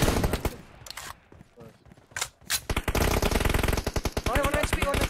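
Rapid automatic gunfire from a PUBG Mobile team deathmatch fires in loud, dense bursts. It starts with a short volley, drops to quieter scattered shots, then returns as sustained heavy firing, with voices talking over the game.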